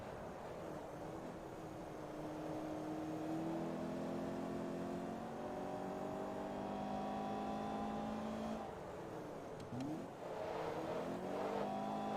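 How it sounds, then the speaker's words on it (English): A race car engine in Forza Motorsport 2 screams through sustained high revs, climbing pitch through gears and pressing into the rev limiter, loud and continuous with a brief dip near the end. "Really pushing the engine to the limits, going right into the rev limiter."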